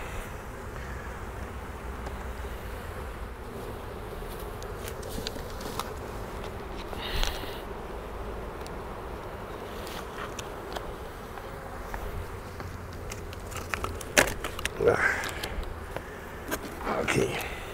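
Honey bees hum in a faint, steady drone around an open Segeberger hive during a July inspection, with occasional soft clicks and handling noises and no clear talking.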